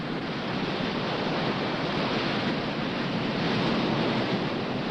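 Ocean surf rolls in at Rincon, Puerto Rico as a dense, continuous roar of breaking waves and wash, steady and loud for the whole stretch and heard alone with no voices.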